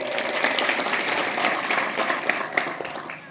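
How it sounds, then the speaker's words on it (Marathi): Dense audience applause at a public gathering honoring Namdevrao Bhoyar, steady and fairly loud with individual sharp claps standing out near the end. "त्यांच्यासाठी इकडे जोरदार टाळ्या वाजवा"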